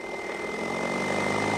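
A Patriot PT-12AS sprayer runs with a steady, even motor drone and broadband hiss, close and unbroken throughout.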